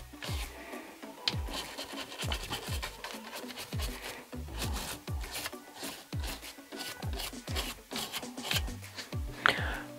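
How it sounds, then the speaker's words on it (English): Rapid scrubbing and scraping on AR-15 barrel threads while they are cleaned with gun scrubber, a dense, uneven rasping rhythm of short strokes, close and steady throughout with no voices. "I'm going to go ahead, just clean these threads."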